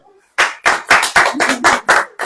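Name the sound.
congregation clapping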